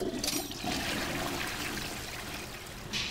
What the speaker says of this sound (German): Auch schön, dass man die Klospülung immer hört.